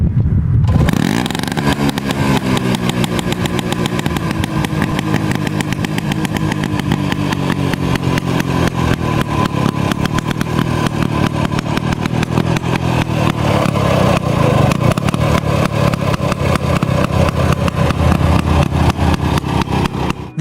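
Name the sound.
DKW RT 125 motorcycle engine running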